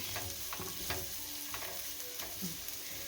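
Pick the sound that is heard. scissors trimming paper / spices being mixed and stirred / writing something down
spices being mixed and stirred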